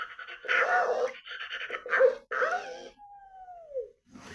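A person's voice imitates a dog panting in rapid breathy bursts, close and fairly loud, followed by a drawn-out falling whine-like tone.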